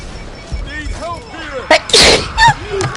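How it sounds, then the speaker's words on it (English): A person sneezes close to the microphone, a sharp loud burst after some short vocal sounds, with another voice briefly reacting afterward. "Ooh, I'm gonna sneeze."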